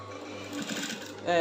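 A sewing machine stitching a princess dart bustier: a short, close, steady whirring run of stitches lasting about a second, ending with a louder burst as the machine speeds up.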